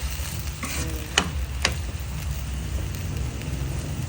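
Beef and corn sautéing in a pan, a steady sizzle with a few sharp stirring scrapes near the start.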